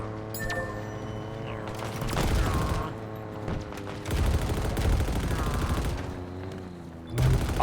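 Rapid, sustained weapon fire from Halo Infinite, the shots running on without a break in dense bursts over steady background game audio.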